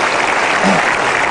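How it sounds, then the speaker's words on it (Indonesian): A studio audience at a talk show applauds in a loud, dense, continuous burst of clapping that fills the short moment, close and even. "Kita berikan tepuk sekali lagi untuk Ibu Diana."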